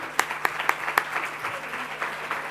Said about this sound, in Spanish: Un aplauso para Maite.